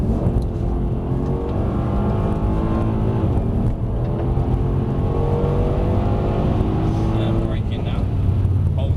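Mercedes-AMG C63 S engine on a track at Mercedes-Benz World, loud and close with rising revs as it accelerates, while an instructor talks over it.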